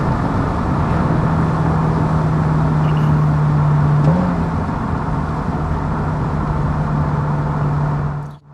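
A 2003 Ford Mustang Mach 1 with a 4.6 V8 and automatic transmission winds down from about 85 mph. A loud, steady engine and road drone shifts pitch once midway, then falls away at the very end.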